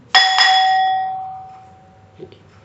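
A single bright bell chime rings out clearly, struck twice in quick succession, then a long pure tone fades slowly into quiet.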